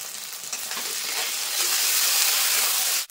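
Ginger-garlic paste with cumin, coriander and dried chili pastes frying in oil in a pan for a Bengali rui fish kalia, a loud steady sizzle with bubbling and stirring, no voices.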